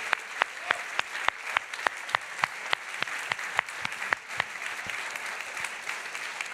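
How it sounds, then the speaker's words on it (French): Guests at a customer experience directors' gala applaud Byron: sustained crowd clapping with a steady rhythm of sharp, prominent nearby claps over a dense patter, holding level for several seconds. "Mesdames et messieurs, s'il vous plaît, un énorme applaudissement à Byron"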